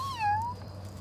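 A person imitates a cat's meow beside a campfire, one drawn-out falling-then-rising meow over a steady low hum, with no talk.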